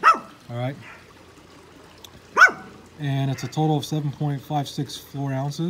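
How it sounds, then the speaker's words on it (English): Dogs bark in a backyard, with sharp yelps early and a quick run of barks in the second half, mixed with someone speaking close by. "Excuse the dogs, guys, I'm doing this in the backyard."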